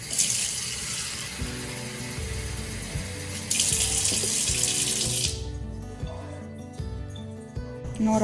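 Water poured into flour for butter murukku dough, a steady splashing stream for about five seconds, then faint mixing and handling sounds close by.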